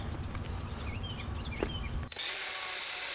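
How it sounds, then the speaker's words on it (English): A power drill fitted with a hole saw cuts into wood while fixing a loose outdoor hose spigot, a steady grinding whir that shifts abruptly to a brighter, harsher tone partway through. "I'm kind of just going in circles a little bit with this drill to help eat into the wood."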